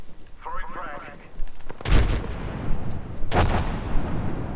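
Two heavy gunshot blasts boom loudly a second or so apart in the video game Apex Legends during a ranked match, each with a sharp attack and rumbling tail, after a brief burst of voice at the start.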